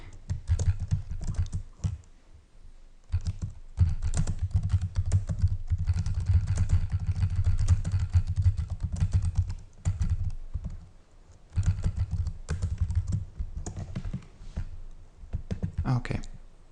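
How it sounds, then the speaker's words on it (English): Rapid clicking of keys on a computer keyboard comes in several bursts separated by short pauses, over a low steady hum. "and then I am typing it in."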